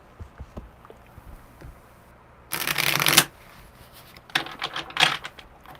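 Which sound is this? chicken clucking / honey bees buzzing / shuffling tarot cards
shuffling tarot cards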